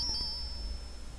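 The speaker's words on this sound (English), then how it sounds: "Cast fetch spell." A magic fetch spell cast on a bell in the Quest for Glory 2 game, giving a soft, sustained high shimmering chime that holds steadily for over a second over low background hum, with no talking.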